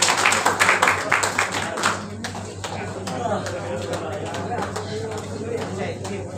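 Seminar audience clapping in a hall, a dense burst of hand claps for the first two seconds, then thinning to scattered individual claps under a busy murmur of voices and a low steady hum.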